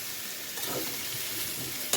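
Oil sizzling steadily under frying raw jackfruit and small prawns, an even close hiss with faint stirring movement and a single sharp clink near the end, no voices.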